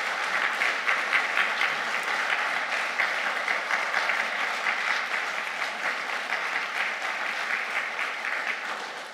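A church congregation, standing during a Sunday service, applauds warmly in a dense, sustained wash of clapping that stays loud and steady before tapering slightly at the end, with no speech over it.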